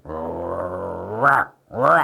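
A person imitates a dog, starting with a long, low, rumbling growl and ending with two short, rising whine-like yelps, close and loud.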